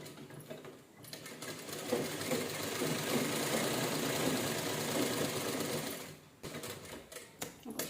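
A sewing machine runs steadily while stitching a pillow cover, a continuous mid-loud whirring rattle for several seconds that slows and stutters into short bursts near the end.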